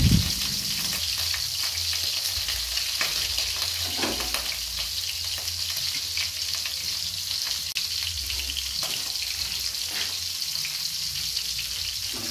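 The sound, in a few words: frying food in a pan over low heat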